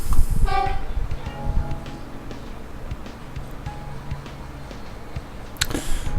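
Commuter train rolling across a bridge in the Bridge Constructor Trains game: rumbling rail noise and clacking wheels throughout, a horn-like tonal blast near the start and a sharp burst near the end, with no talk.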